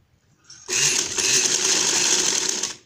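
A sewing machine runs in one steady continuous burst, stitching over embroidery on a folded sleeve. It is close and fairly loud, with no talk over it.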